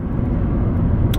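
Car cruising on the motorway between Shevington and Haydock, a continuous low road rumble and tyre roar from inside the vehicle, steady and unbroken.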